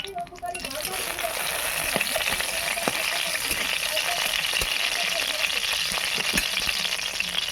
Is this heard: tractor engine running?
no